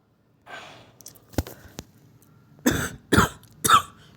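Several sharp coughs from a person feeling unwell, starting with a soft breathy exhale, then isolated bursts and a cluster of three loud close coughs near the end, with no talking.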